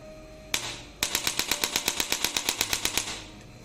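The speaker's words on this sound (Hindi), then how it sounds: "तो ये था एक छोटा सा डेमो स्पाइन एडजस्टर गन का" Chiropractic spine adjuster gun (1100 N) running on its third mode at power 13, firing a fast, even train of sharp mechanical clicks, roughly five per second, loud and close with no talk.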